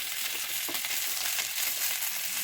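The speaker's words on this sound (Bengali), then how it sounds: "মটরশুঁটি এবং ক্যাপসিকাম দিয়ে কিছু সময় নাড়াচাড়া করে নিতে হবে" Onion, peas and capsicum stir-fry in a pan with a continuous close sizzle and light stirring scrapes throughout. No voices.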